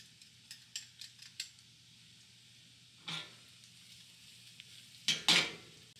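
Brown sugar is added to a hot pan and stirred, producing a series of light scraping taps at first, then louder sizzling, scraping bursts of metal utensil against pan, close and without talk.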